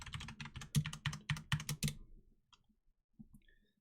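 A computer keyboard clatters with a quick burst of rapid keystrokes, then falls nearly silent apart from a few scattered faint clicks.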